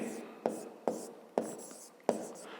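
A pen scratches on paper while a fifth-grade maths solution is written out by hand, with four distinct strokes at steady intervals, close and clear, and no one speaking over them.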